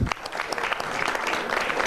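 A crowd claps steadily throughout, a dense wash of applause that stays even and fairly loud from start to finish.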